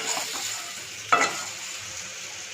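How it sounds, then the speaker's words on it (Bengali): Eggplant fries in hot oil with turmeric, sizzling steadily up close, with one brief clatter of a utensil partway through. "আর এখানে দেখো এই তেলটার মধ্যেই আমি একটু বেগুনটা ভেজে নেব।"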